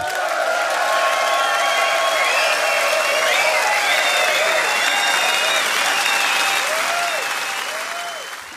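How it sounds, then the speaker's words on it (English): An audience at the SEGA European Guitar Award 2018 applauds guitarist Joe Satriani, steady dense clapping mixed with whistles and a few cheers that carries on evenly before tapering off at the end. "A warm applause for Mr. Joe Satriani."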